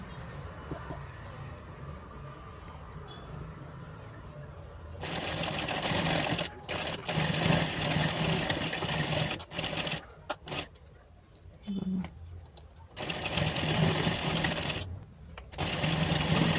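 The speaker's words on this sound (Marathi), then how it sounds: "डबल शिलाई मारून तिकडून पण करून घ्यायचं" A sewing machine double-stitching a handle onto a purse made from saree lace: quiet pauses broken by long loud runs of rapid, steady needle chatter, stopping and starting several times, close up.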